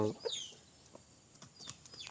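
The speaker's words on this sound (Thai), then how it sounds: "เจ้าพยักป่าเป็นไก่หนุ่มนะครับ ได้เจ็ดเดือน ถึงแปดเดือน" A young rooster of seven to eight months, out grazing on grass, gives a few faint, scattered clucks against quiet outdoor background.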